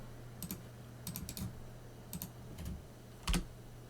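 Bursts of computer keyboard typing, close and moderately loud, with short pauses between the clusters of keystrokes and a single heavier key tap near the end, no talking.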